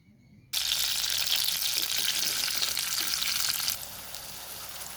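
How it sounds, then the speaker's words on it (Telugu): Onions, dried red chilies and curry leaves hit a hot pan for a potato fry, bursting into a loud, bright sizzle after a short quiet start, then settling a little softer toward the end. "ఆనియన్స్, ఎండుమిర్చి, కరివేపాకు ఫ్రై చేస్తున్నానండి"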